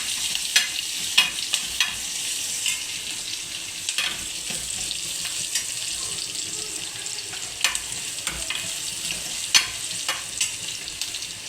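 Raw banana curry fries in a pan with a steady bright sizzle while a spoon stirs and scrapes in irregular clinks and taps, close and continuous throughout.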